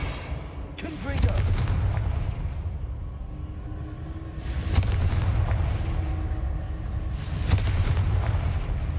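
Booming spell blasts from the Confringo fire charm in Hogwarts Legacy, three heavy explosive bursts spaced a few seconds apart over a continuous rumbling game backdrop, loud and close.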